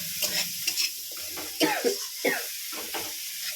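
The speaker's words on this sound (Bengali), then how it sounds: "সরষে বাটা দিয়ে দিচ্ছি, ভালো করে কষিয়ে নেব এর সঙ্গে" Mustard paste stir-fried with masala in a pan for a fish curry, a sizzling hiss broken by repeated scraping strokes of a spatula, close, with a brief throat-clearing-like vocal sound.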